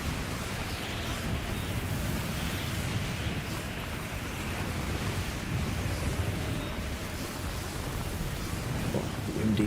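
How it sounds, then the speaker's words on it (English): Wind gusts through a video game level, a steady broad rushing roar that holds constant and loud from start to finish, with no voices over it. "Oh, windy."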